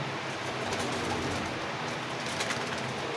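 Big breeder pigeons coo softly in a loft, faint low murmurs under a steady hiss of background noise, with a few brief flutters and no voices.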